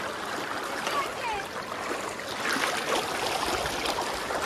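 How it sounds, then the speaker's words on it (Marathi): A small stream in the Konkan countryside flows with a steady, close, hissing rush of water that holds an even level throughout, with no clear splashes. "हा आहे छोटासा ओढा"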